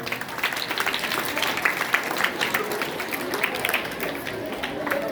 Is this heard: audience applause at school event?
yes